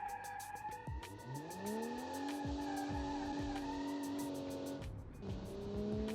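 Tires screech and skid as a car slides through a corner in the Automation game, powered by a Ford Barra 270T inline-six, with the engine roaring steadily and a second sharp squeal near the end.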